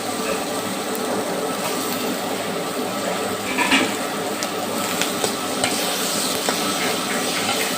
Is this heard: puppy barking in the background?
no